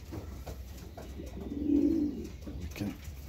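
Young pigeons cooing nearby, a soft low throaty coo swelling in the middle over a background of rustling and small bird sounds, with no talk.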